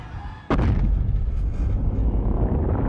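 A sudden deep film explosion bursts in after a brief quiet moment, followed by a sustained heavy rumble that rolls on and slowly fades.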